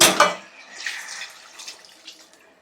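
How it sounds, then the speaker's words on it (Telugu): Water splashes onto frying chicken pieces in a pan for a chicken gravy curry, making a loud initial gush that fades into a faint, bubbling hiss. "ఇవి వేగిపోయింది కాబట్టి ఇప్పుడు వాటర్ పోసేస్తున్నాను"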